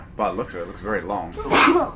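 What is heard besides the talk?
sneeze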